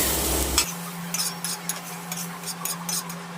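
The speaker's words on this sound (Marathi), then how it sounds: "अजून एवढी भेंडी भाजायची" Okra (bhindi) roasts in a pan with a low sizzle while a utensil stirs and scrapes it in quick repeated strokes, close by, after a brief louder rumble at the start.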